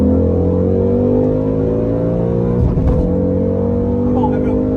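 A 2021 Mustang Mach 1 racing a Terminator Cobra making 450 to 500 horsepower, both engines roaring loudly under hard acceleration with rising tones and a dense rumbling drone throughout.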